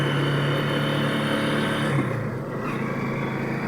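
Motorized tricycle engine running steadily nearby, a buzzing mid-pitched putter that holds constant and then eases slightly in the last seconds.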